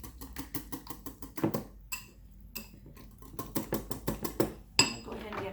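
Cherry almond scone batter mixed in a bowl, with rapid, regular tapping and scraping strokes of a utensil against the bowl, close and fairly steady with brief pauses.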